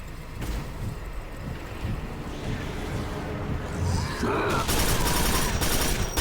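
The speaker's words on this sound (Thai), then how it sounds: "ใช้ปืนกลดีกว่า" Machine gun fire in the shooter Quake 4, a loud sustained burst of rapid gunfire building in the latter half over a rumbling game background.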